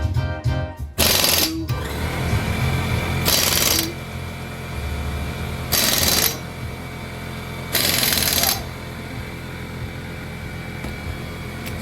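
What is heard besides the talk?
air tool tightening wheel lug nuts on Chrysler 300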